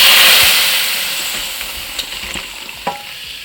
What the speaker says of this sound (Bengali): ডালটা ফোড়ন দিতেই হবে।